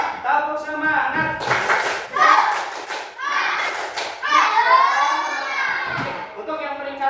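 Children in a classroom perform a rhythmic clap chant, with bursts of clapping between their chanted voices, loud and close, mixed with shouting kids.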